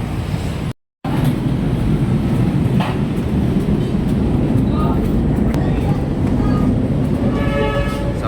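A light rail train rumbles steadily at close range, a constant low roar with faint squeaks and clatter, and a brief dropout near the start.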